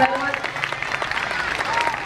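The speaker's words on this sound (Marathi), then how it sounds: "सर्वांनी जोरदार टाळ्या वाजवून" An audience claps together at a centenary celebration held by a gymnasium, honouring participants and trainers, a steady dense applause over the whole moment with a few voices mixed in.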